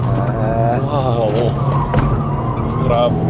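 A car braking hard into a corner on a race track, tires skidding and squealing in a wavering tone over steady engine noise, while a person talks through most of the clip.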